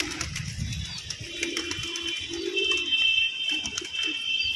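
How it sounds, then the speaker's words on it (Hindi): Pigeons coo in low, soft, intermittent murmurs at moderate distance, with a faint high steady tone and occasional light rustling in the background. "देखिए सामने कबूतर आ रहा है"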